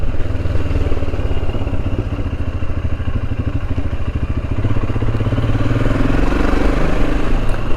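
A Royal Enfield Himalayan single-cylinder engine thumps loudly and steadily while riding, a close, even pulsing chug with wind rush throughout.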